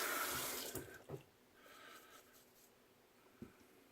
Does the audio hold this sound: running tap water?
yes